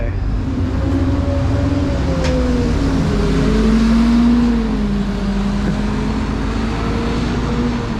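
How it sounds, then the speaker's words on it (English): An Alexander Dennis Enviro 400 double-decker bus on route 337 pulls away in London, its engine note rising and shifting steadily nearby with no talk over it. "a very pleasant sounding Enviro 400 there, heading off to Richmond"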